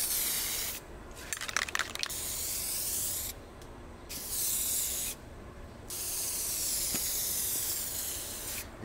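An aerosol can sprays a coating on a turbo M50-powered E30 in repeated close, loud hissing bursts of a few seconds each, separated by brief quiet gaps, with some rattling and crackle during the first burst.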